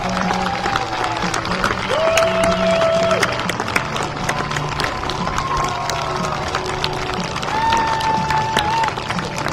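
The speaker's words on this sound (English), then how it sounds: "everyone please stand and give a round of applause to our seniors" Applause for senior softball players at a college game, a steady crowd clapping and cheering that fills the whole stretch, heard from within the stands.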